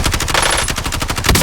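Rapid automatic gunfire in the Warzone battle-royale shooter: a dense, loud burst of closely spaced shots rattling continuously throughout.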